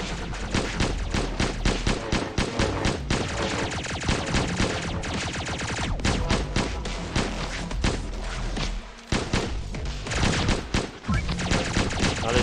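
A crafted gun in the game Pixel Gun 3D fires in dense, rapid bursts, loud continuous shots stacked almost without pause, with one brief gap near the end before firing resumes.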